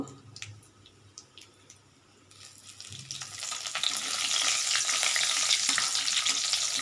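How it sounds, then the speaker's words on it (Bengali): Mustard seeds sputter and sizzle in hot oil during a home tempering for a small-fish sour curry, starting quietly and swelling into a steady, loud crackling frying hiss with scattered pops over the last few seconds. "এটা একটু সর্ষে ফোড়ন দিলাম"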